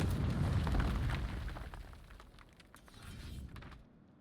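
A grenade exploding in a video game, a heavy low rumbling blast that swells, fades, then rolls back briefly before dying away.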